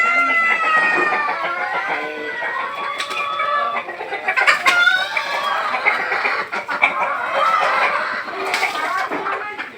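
Many chickens cluck and squawk continuously at a poultry farm, a dense overlapping chorus close by with occasional louder calls and a crow-like cry, filling the whole stretch without pause.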